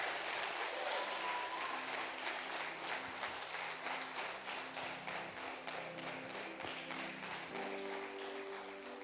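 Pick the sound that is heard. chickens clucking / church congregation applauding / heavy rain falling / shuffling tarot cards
church congregation applauding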